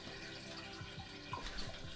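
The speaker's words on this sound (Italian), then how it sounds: "vi faccio sentire lo scroscio dell'acqua" Water rushing through a beginner's hydroponic kit, a quiet steady trickling and gurgling flow with faint drips, heard alone without talk.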